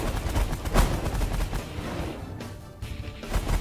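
Rapid gunfire from ships in the space strategy game The Last Federation, a dense run of sharp bursts and crackling blasts that thins out briefly and then picks up again, with no talking over it.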